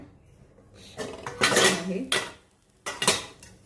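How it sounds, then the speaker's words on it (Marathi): A metal plate used as a lid is lifted off an appe pan of crispy corn appe, giving close clanks and scraping clatter of metal on metal in two short bursts with quiet pauses. "हे बघा आता आपण प्लेट काढून बघूया"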